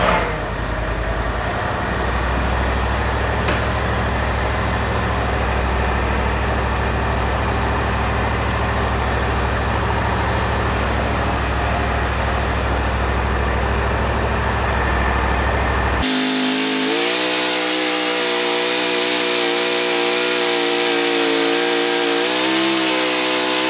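Zero-turn mower engine runs loud and steady while its hydro-drive levers are worked slowly forward and back to purge air after an oil service; partway through the drone shifts to a more tonal, wavering whine. No one speaks.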